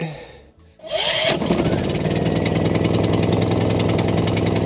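An engine, apparently a generator's, cranks briefly, then catches and settles into a loud, steady, rapidly pulsing run, close by, during tests on a bus being converted into a camper.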